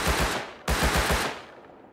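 Gunfire in the survival video game Rust: two quick bursts of rapid automatic shots, each a rattling volley of several cracks, the second followed by a fading echo tail, heard alone.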